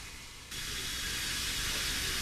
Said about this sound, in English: this impressive steam engine and carriage, but Hannah Owen knows a lot more about it